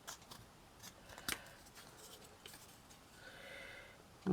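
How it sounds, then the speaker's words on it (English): A tiny part for a miniature lace bobbin table being cut at an angle, heard as a few quiet, close snips and clicks scattered over a soft background, ending with a louder thump. "And just cut it at an angle."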